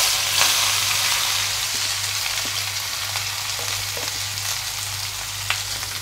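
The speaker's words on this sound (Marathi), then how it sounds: "आता हे जिरे चांगले लालसर झाल्यानंतर यामध्ये आपण हा कांदा टाकूया." Chopped onion fries in hot oil with cumin and mustard seeds, giving a steady, close sizzle across the whole stretch, with faint scrapes of stirring now and then and no talking.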